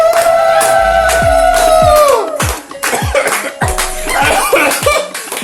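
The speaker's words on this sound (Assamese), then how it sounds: "মোক কাহ আহি গ'লগৈ" Loud, sharp coughing bursts at home during a family cake-cutting gathering, several rough explosive coughs in close succession with breathy vocal sounds between them, close to the listener.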